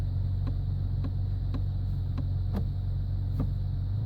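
A 2016 Toyota Tacoma TRD Off Road idling steadily with a low, constant engine rumble heard from inside the cab. Faint regular clicks sound as the gear selector moves through its positions.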